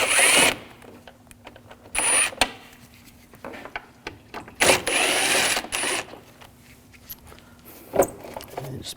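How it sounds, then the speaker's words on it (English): Screws removed with a T20 socket from the air intake tube of a 2007-2013 BMW 328i 3.0L inline-six, heard as several short bursts of a power driver whirring between clicks and small metallic rattles, close up. "Take these screws out"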